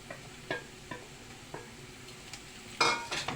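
Garlic is added to a pan and fried, with a faint background sizzle, a few light utensil clicks and scrapes, and a louder hiss burst near the end.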